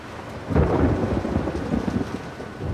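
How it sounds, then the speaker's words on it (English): Thunder rumbles loudly through steady rain during a storm in the video game The Last of Us Part 2, a deep roll building at half a second and churning on to the end with no talk. "stop lightning and thundering, please"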